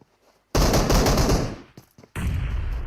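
Rapid automatic gunfire in PUBG Mobile, loud and close, in a dense burst of about a second, a short crackle, then a second sustained burst, with no talk.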